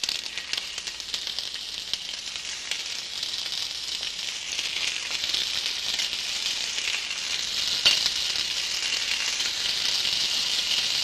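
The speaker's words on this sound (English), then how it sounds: "Now this is starting to sizzle." Veal involtini frying in hot oil in a pan give a steady, dense sizzle that holds at an even level throughout, with a faint crackle partway through and no voices.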